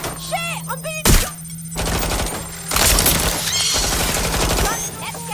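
Gunfire erupts in the Watch Dogs Legion video game, with sharp shots and bursts breaking over a steady in-game hum, mixed with excited voices and crackling impacts.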